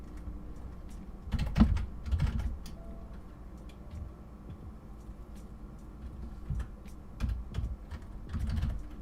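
Computer keyboard typing comes in scattered clusters of close, quiet clicks and taps with pauses between bursts, while a faint steady hum runs underneath.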